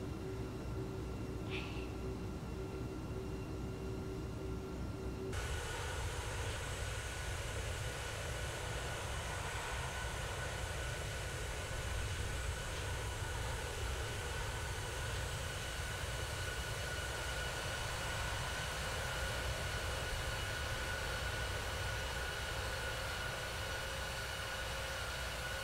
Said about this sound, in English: God, I love the engine sounds on this plane.